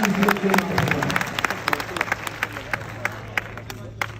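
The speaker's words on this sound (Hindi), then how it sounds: "तालियां बजा के बताइए" Applause from a mushaira (Urdu poetry recital) audience in Lucknow, a steady wash of many hands clapping with scattered sharper claps, moderately loud throughout.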